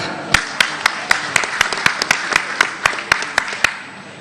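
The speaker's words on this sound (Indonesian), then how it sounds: "Kita berikan tepuk tangan yang meriah" Applause from an audience at a political gathering in Indonesia, a steady wash of clapping punctuated by sharp, evenly spaced claps, moderately loud and continuous.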